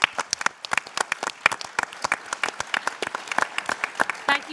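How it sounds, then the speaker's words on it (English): Applause breaks out for an organising team at a rewilding hustings evening, a crowd clapping in a dense, uneven patter of sharp hand claps that holds steady throughout, fairly close and lively. "Can we please give them a round of applause for their hard work putting this together?"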